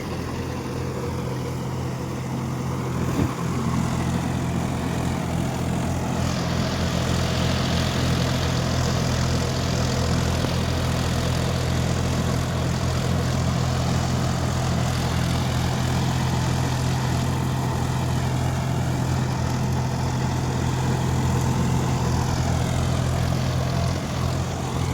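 A John Deere 5050D tractor works a new rotavator through soil, its steady diesel drone holding constant and close, with strong low harmonics and a gritty churning wash over it for the full stretch, with no talking.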